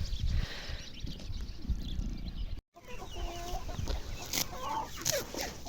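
Chickens cluck and peck nearby in a busy outdoor vegetable garden, with scattered short calls over a rustling background and a brief dropout midway.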